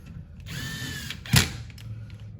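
A cordless power drill whirs in one short burst while running screws into a Husqvarna chainsaw crankcase, then a sharp mechanical clack follows, close up.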